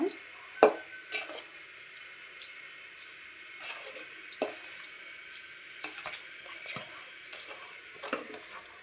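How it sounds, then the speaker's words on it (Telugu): Sweet dough for sadda garelu is stirred by hand as hot jaggery syrup is poured in, giving soft wet squelches and scattered light clinks of a spoon against the vessel, close and steady. "ఇప్పుడు పాకం పోసుకుంటూ సరిపడంత చూసుకొని కలుపుతూ ఉండాలి కాస్త"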